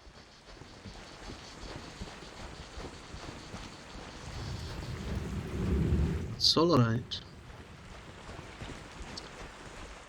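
Steady rain and rumbling thunder from a stormy scene in the video game The Unpetrified, a constant wash with a low swell of thunder midway, and a brief voice and a short synthetic chirp on top.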